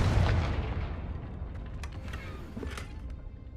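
Confringo fire spell explosion in Hogwarts Legacy, a loud booming burst at the start that decays into a long rumbling tail with a few faint crackles, alone with no talk.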